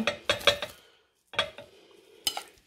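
Soft squishing and scraping taps come in short bursts with pauses as a utensil mashes avocado in a bowl, close by.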